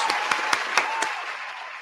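A short run of sharp, evenly spaced claps at a hockey fan report, five distinct hand claps close to the microphone over a constant background roar of arena crowd noise.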